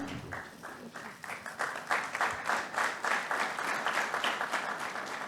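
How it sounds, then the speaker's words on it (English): Applause from a summit audience in Mumbai builds from a few scattered claps into a full, rhythmic round of clapping that holds steady to the end. "Let's give him a big, big round of applause, ladies and gentlemen"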